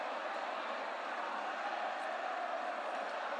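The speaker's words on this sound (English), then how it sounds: "Applause there from the home fans." Home football crowd at Sevilla versus Barcelona applauding steadily, a distant, even wash of clapping and murmur from the stands with no talk over it.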